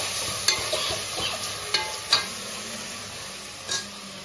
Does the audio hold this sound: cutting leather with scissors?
no